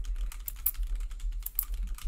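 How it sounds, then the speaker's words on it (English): Quick bursts of clicking keystrokes on a computer keyboard, close and crisp in irregular clusters, with no talking over them. "It's typing that's going on."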